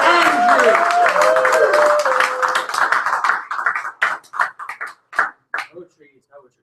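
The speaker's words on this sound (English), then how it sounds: "Let's give a big round of applause to Andrew." A small audience claps for a performer named Andrew, steady applause under a talking voice that thins into scattered individual claps and fades out near the end.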